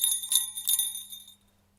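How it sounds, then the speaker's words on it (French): A small bell on a knitted Christmas sweater decorated with a velociraptor jingles in two or three quick bright shakes, close and clear, then stops, leaving a faint low hum. "si vous entendez un son de cloche, c'est normal"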